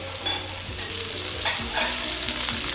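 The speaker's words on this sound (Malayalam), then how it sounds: "ജസ്റ്റ് ഒന്ന് ശാലോ ഫ്രൈ ചെയ്തെടുത്താൽ മതി" Karimeen (pearl spot fish) shallow frying in a pan, Kerala style, with a steady bright sizzle of hot oil throughout and occasional louder spits and crackles near the pan.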